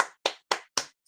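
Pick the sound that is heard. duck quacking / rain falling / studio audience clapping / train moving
studio audience clapping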